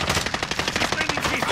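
Rapid pistol gunfire in Call of Duty: Modern Warfare, a close, loud string of sharp evenly spaced shots in quick succession lasting about a second and a half.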